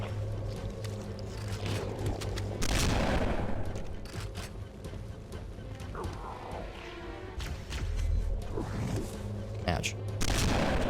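Assault rifle fire in the shooter game Cursed Halo, heard as several bursts of sharp shots with a continuous game soundscape and a voice talking over it.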